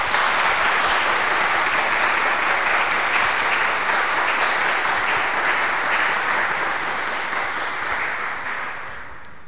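Audience applause and cheering in a hall during a talk on art and heritage of the Dominican Republic, a dense steady clapping throughout that tapers off toward the end.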